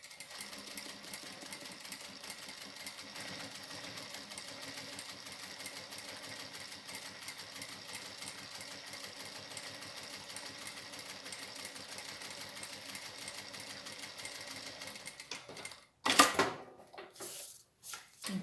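A domestic sewing machine stitches slowly, giving a soft, steady, rhythmic mechanical chatter that runs close and continuously. It stops near the end, followed by a few louder handling knocks.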